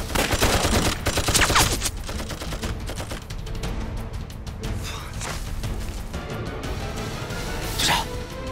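A machine gun fires in sustained rattling bursts during a wartime ambush scene, loud and dense throughout, with sharp cracks and thuds layered over a continuous roar of battle.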